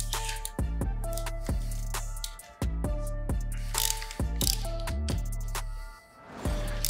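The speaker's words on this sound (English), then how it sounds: "So we'll slacken off these two 10 mils first." Ratchet wrench slackening tight 10 mm bolts on a dirt bike brake assembly, close-up bursts of rapid clicking pawl ticks in repeated strokes with brief pauses between.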